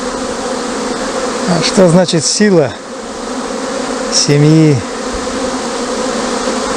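A strong colony of Carnica honeybees hums steadily at an apiary, a loud, continuous drone under a voice.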